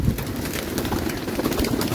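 Pigeons coo in a steady, low, rolling chorus from several birds settled close by, the murmuring continuous throughout with a busy background of fluttering and shuffling.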